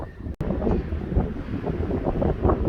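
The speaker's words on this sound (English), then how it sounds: "this wind is pretty interesting" Strong wind on a mountain trail on the Pacific Crest Trail near San Jacinto, roaring and buffeting the microphone in a loud, continuous rush with gusty swells and a brief dropout near the start.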